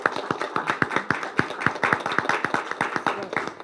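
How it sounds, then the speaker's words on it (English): At a school spelling bee, a small audience claps for two contestants, with sparse, distinct hand claps in a quick uneven rhythm, close and fairly loud, and no voices. "let's give Lydia and Julian a round of applause"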